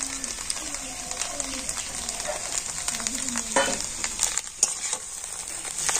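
Homemade flour chow mein frying in a pan with potato and egg, a loud, steady sizzle up close with stirring scrapes, while a person talks over it.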